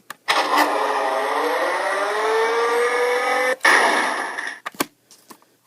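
A 2013 Hess toy truck gives off a loud, steady electronic engine roar for about three seconds, a short second burst following, then a few faint clicks as the noise stops.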